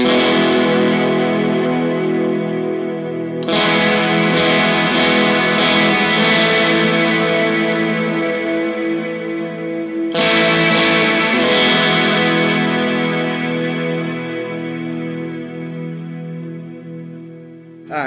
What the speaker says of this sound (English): now I'm going to push the preamp, and then we'll engage the reverb just to see.